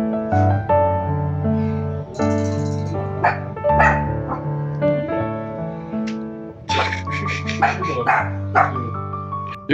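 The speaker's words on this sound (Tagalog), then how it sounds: "Yung aso nila yun yung ano eh." A household dog barks and yips several times indoors while a melodic tonal sound plays steadily throughout, with the barks scattered as bursts over it.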